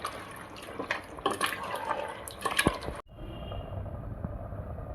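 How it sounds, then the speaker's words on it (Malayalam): Boiling water is poured into beef curry for a Kerala thattukada-style dish, a continuous splashing, bubbling pour with intermittent sharp liquid splats, then cut to a quieter, steady low simmer. "ശേഷം ഇച്ചിരി തിളച്ചവെള്ളം ഒഴിക്കുക"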